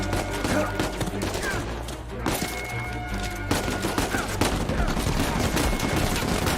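Heavy gunfire from the video game Uncharted, sustained bursts of rapid shots and impacts, loud and continuous throughout with no break.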